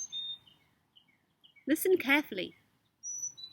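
Birds singing outdoors, with thin high chirps and short whistled notes scattered faintly before and after a calm voice speaks briefly in the middle.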